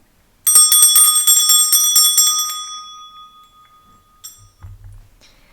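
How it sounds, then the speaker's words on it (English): A small bell struck once to clear energy, ringing bright and clear up close with a shimmering, slowly fading tone, followed by a faint tap and a soft low bump near the end. "I'm going to start by clearing the energy with my bell."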